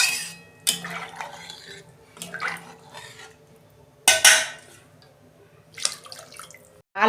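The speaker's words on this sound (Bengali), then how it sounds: "আমি পরিমাণ মতো জল দিচ্ছি।" Water poured into a cooking pot of fish curry, coming in a few separate splashing bursts with quiet pauses between them, close and fairly loud, with faint kitchen clatter.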